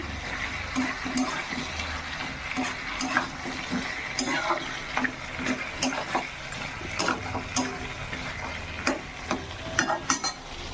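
Mutton with papaya is stirred and sautéed in a pot, giving a soft ongoing sizzle broken by repeated clinks and scrapes of a spoon against the metal, close and moderately loud.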